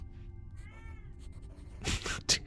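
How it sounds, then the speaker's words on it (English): A cat meows faintly a couple of times nearby, followed by a louder, sharper cry near the end, with no talk. "Can you hear my cat, by the way?"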